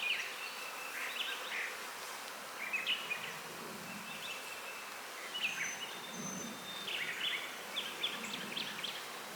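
Honey bees from a small split hive swarm and buzz after the frame is dropped and stirs them up, a steady agitated drone with louder surges, close and continuous throughout.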